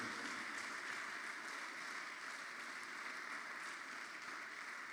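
A church congregation applauds and acclaims during a worship seminar, steady sustained clapping and cheering filling the whole stretch at an even level, with no voice standing out.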